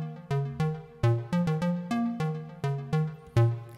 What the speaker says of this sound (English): This little square synth is playing a little kind of ostinato melody like this.